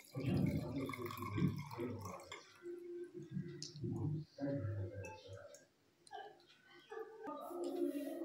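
Water drips and trickles as it drains from soaked grain being prepared for fasting-style dhokla, with soft wet clicks and splashes under a person talking.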